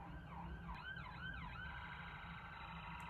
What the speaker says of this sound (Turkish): Böyle bir ses var. Sürekli çalıyor. Bu ses ambulans sesi.